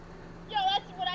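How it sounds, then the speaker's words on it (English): Whistle in a retail-store video game, used to call employees over: two short, bright whistled notes with a slight pitch sweep, the second briefer, over a low steady hum. "Employees actually come looking for you when you whistle."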